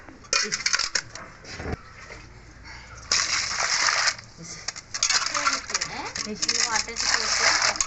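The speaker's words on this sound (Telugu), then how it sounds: "ఇప్పుడు ఇందులో వాటర్ మళ్ళీ కడుగు" Fish pieces are rinsed in water in a kitchen vessel, with splashing, sloshing and metallic clinks coming in uneven bursts while a person talks nearby.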